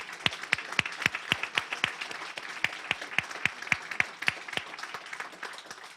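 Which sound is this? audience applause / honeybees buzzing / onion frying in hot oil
audience applause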